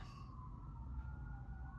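Emergency vehicle siren wailing through a city, a steady rising-and-falling tone sustained under low traffic rumble at a moderate distance, faint and continuous without speech.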